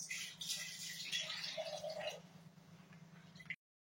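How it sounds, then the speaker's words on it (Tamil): Water is poured into a pot of mutton curry, a soft, steady rush that fades near the end and then stops abruptly, with no voices. "இன்னும் கொஞ்சம் கூட தண்ணி போட்டுக்குங்க."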